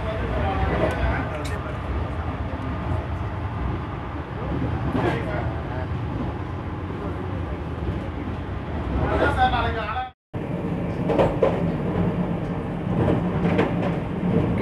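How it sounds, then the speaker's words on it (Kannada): A Vande Bharat train on the Hosur–Dharmapuri–Salem line gives a steady rumble and rattle of running rail cars, continuous and fairly loud, with a brief dropout partway. "ಟ್ರೈನ್ ಬರ್ತಾಯಿದೆ ನೋಡ್ತೀರಲ್ಲ"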